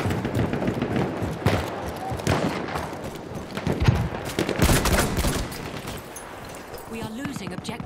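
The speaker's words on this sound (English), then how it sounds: "Enemy machine gun sighted." Battlefield 1 battle din with bursts of machine gun fire and scattered gunshots, loud and chaotic with booming impacts, and game voices calling out over the fighting.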